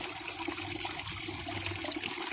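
A three-tier DIY waterfall fed by a small 12V 20W DC pump, water splashing and trickling steadily down the tiers, close and continuous, with no one talking.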